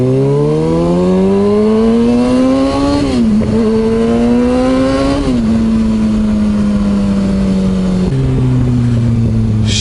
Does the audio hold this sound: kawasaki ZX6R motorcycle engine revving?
yes